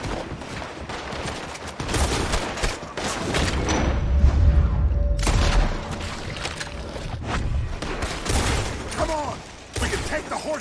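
Rapid gunfire in Red Dead Redemption 2 with a deep booming burst as an oil wagon explodes, dense overlapping shots throughout, a heavy low rumble in the middle, and voices speaking over the battle.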